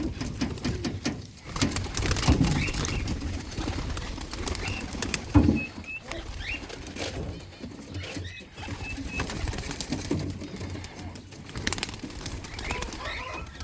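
Racing pigeons coo and flap their wings in a loft, with bursts of wing beats and low cooing throughout at close range.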